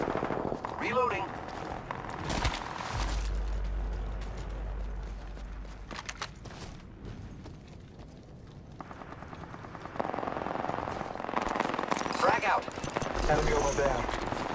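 Gunfire from the Devotion and G7 Scout in Apex Legends, a steady spray of shots with heavy low booms and game callouts spoken over it.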